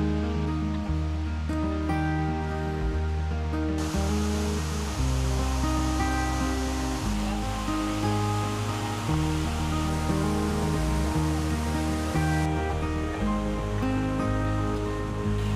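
A waterfall in Tasmania's first national park sends a steady, loud rush of falling water that continues throughout, with music playing over it.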